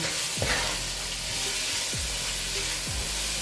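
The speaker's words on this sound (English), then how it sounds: "So essentially we're just sauteing the onions so they get a little salty" Onions sauté in chicken stock over medium-high heat, giving a steady close sizzle and bubbling hiss with a few soft scrapes of stirring.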